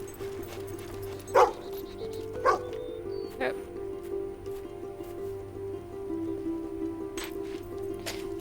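Dog barking in the video game Fable: a few short, spaced barks over a steady game background hum, fairly faint and mid-distance.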